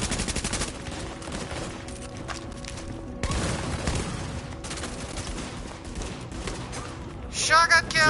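Shotgun blasts in a video game, fired in a dense, rapid barrage of close, punchy reports that runs through most of the stretch, ending in a short burst of louder noise.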